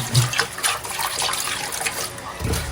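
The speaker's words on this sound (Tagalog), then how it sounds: "Atin lang po ito lalagyan ng kaunting tubig." Water splashes and runs steadily into a cooking pot for ube halaya for a few seconds, with a low thud near the end; no one speaks.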